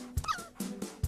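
A cartoon dog gives a few short yips and whimpering barks in quick succession, close and moderately loud, with no talking.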